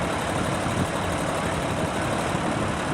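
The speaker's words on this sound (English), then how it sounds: "Gardner engine again." Gardner diesel engine of a Scammell Explorer lorry, a heavy recovery machine, idling at a vintage show, a dense continuous rumble with a steady beat, moderately loud.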